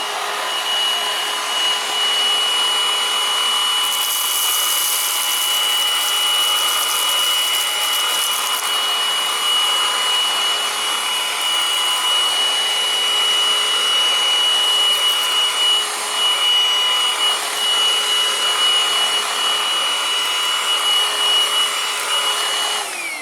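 An INSE 6 in 1 lightweight rechargeable cordless stick vacuum cleans cardboard bits from a thin carpet. Its motor keeps up a loud, steady whine with a constant airy rush, close by, with brief scratchy pickup noises and no talking.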